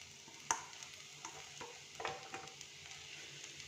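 Potato is mixed with vegetables in a pan, with a few soft scrapes and taps, one sharper at the start, over a faint, quiet sizzle.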